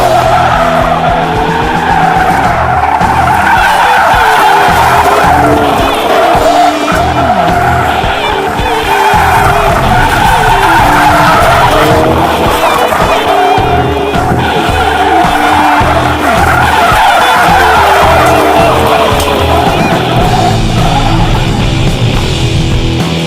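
A Ford Focus RS MkIII drifts sideways, its tires squealing and skidding loudly and without a break for over twenty seconds, with the engine roaring underneath.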